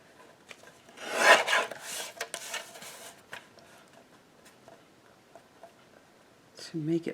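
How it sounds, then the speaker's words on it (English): A piece of card being trimmed, with a short burst of scraping, rasping cuts followed by faint ticks and light handling, close and quiet, and a brief voice at the end. "I wonder if I could trim the card down."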